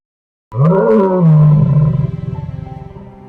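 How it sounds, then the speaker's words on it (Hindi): Lion roaring in an animated jungle cartoon, a single loud, close roar that swells and then trails off into pulsing, throaty grunts, with no talking. "मुझे अभी शेर की आवाज सुनाई दी थी।"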